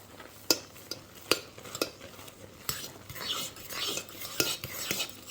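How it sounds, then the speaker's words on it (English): A utensil stirs a cooked shampoo-bar soap mixture in a pot, giving a series of sharp clinks and taps against the side followed by denser, quicker scraping strokes. "So we're gonna quickly stir it up"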